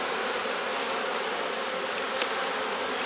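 Honeybees in an open top box of a hive hum in a dense, steady buzz, close and continuous with no pauses.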